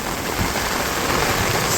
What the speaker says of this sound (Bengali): বৃষ্টি আবার জোরে নামছে, আবারও নামছে জোরে বৃষ্টি, কঠিন জোরে নামছে।